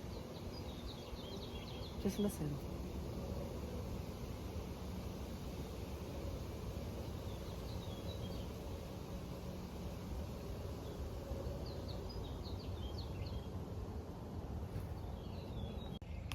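Birds chirp faintly and intermittently in a garden in Andalusia, with small distant tweets scattered over a soft, constant background of wind and outdoor ambience.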